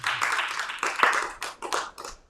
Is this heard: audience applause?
yes